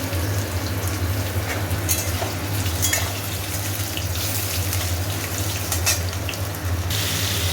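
Potatoes frying in a pan make a dense, steady sizzle that is close and fairly loud, with occasional sharper crackles and faint clinks throughout and no speech.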